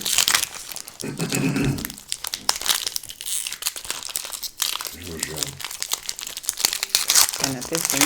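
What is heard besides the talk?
crinkling foil card packs being opened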